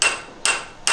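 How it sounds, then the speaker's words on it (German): A hammer knocks on roof framing on a farmhouse under renovation, three loud, sharp blows spaced evenly about half a second apart, close by, with no talking. "Hör mal ganz kurz auf zu klopfen."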